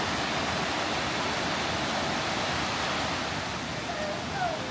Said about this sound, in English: So this is the bottom of the waterfall.